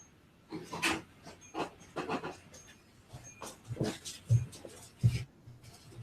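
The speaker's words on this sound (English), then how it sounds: "Wait a minute, my dog is strapped inside." Dog locked in a bedroom panting and whimpering, a series of breathy, rasping bursts with scratching and rubbing sounds, fairly faint and muffled as if behind a door.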